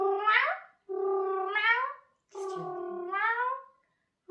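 A cat cries in three drawn-out, wavering meows separated by short pauses, close and fairly clear, with no voices over them.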